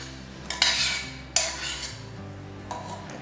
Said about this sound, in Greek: Θα πάρουμε το μπρίκι με τη λιωμένη σοκολάτα μας και θα το αδειάσουμε μέσα